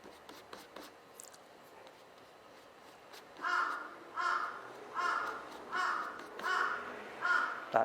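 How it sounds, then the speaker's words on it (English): A big crow caws six times in a steady rhythm, loud and fairly close, after a stretch of soft scratching. "That is one big crow."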